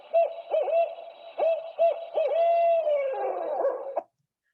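A barred owl's recorded "who cooks for you" call, a series of rhythmic hoots and drawn-out wavering notes, clear and fairly close, ending abruptly.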